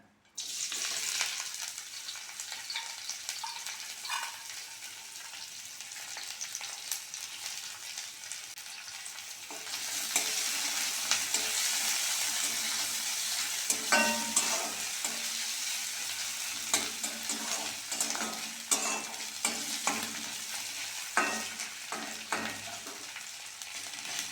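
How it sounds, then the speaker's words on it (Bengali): Chopped onion and green chili fry in oil in a pan, a steady close sizzle that swells louder midway, punctuated by the scrape and clack of stirring, with no talking. "পেঁয়াজ কাঁচা লঙ্কাটা ভালো করে ভেজে নিয়েছি"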